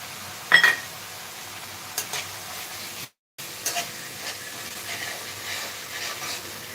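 Chopped ginger, garlic, coconut, coriander and a little mint fry in oil, giving a soft, steady sizzle with a few louder clatters of them going into the pan and a short silent gap partway through.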